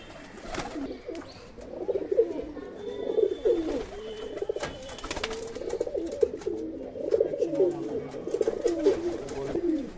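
Pigeons coo in a steady, overlapping murmur for the full stretch, including a golden female with a closed tail among a home flock of high-flying pigeons, close and moderately loud with no clear talk over it.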